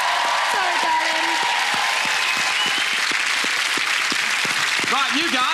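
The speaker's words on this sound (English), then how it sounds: "Massive round of applause to Nicola, everybody!" A game show's studio audience breaks into sustained, loud applause, a dense wash of clapping that runs the whole stretch while a voice talks over it.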